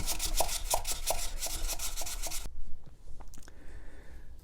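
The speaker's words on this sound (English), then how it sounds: "Notice I'm sanding with the grain still" Rhythmic hand sanding on pallet wood along the grain, steady back-and-forth rasping strokes for a couple of seconds, then it stops and a few faint knocks and handling sounds follow.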